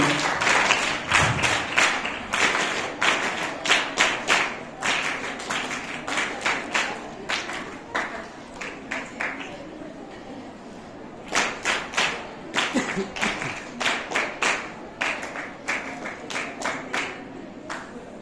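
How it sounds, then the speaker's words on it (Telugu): Audience members at an award ceremony honoring artists clap in repeated rhythmic bursts, a steady crowd of hands near the microphone with a brief lull midway before clapping resumes. "ఫస్ట్ ప్రైజ్ కావాలి అనుకున్న వాళ్ళందరూ చప్పట్లు కొడతా ఉన్నారు."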